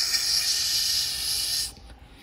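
A long, steady breathy hiss of air being blown by mouth through a clogged 1928 Ford Model A fuel system part, close up, ending abruptly after under two seconds.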